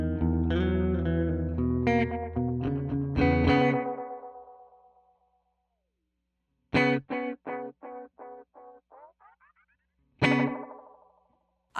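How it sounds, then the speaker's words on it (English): Chroma Console Reels tape echo with drift degradation: a distorted chord phrase rings out and fades, then a quick run of short plucked notes repeats and decays, wobbling and thinning as the tape-style echoes trail off, ending with one more struck note. "Reels, and that is a tape echo where time is time, amount is feedback, and drift again adds instability and degradation"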